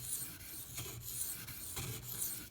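Steady back-and-forth scraping of a Spyderco Delica knife with a ZDP-189 steel blade drawn across a fast-cutting whetstone, rhythmic strokes repeating roughly every second, close and moderately loud with no talking.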